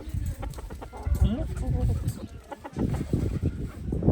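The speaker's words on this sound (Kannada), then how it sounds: "ಎರಡು ಮುಂಜಾ ಕೋಳಿ ತಗೊಂಡ್ವಿ ನಾವು" Chickens, two bought in a rural American village near a sheep pen, cluck and squawk close by in a busy jumble of bursts throughout, with some background voices mixed in.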